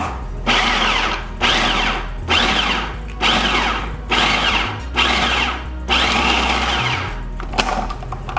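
A food processor pulses chocolate chips into brownie batter in about eight short, loud bursts, each whirring for under a second with brief gaps in between.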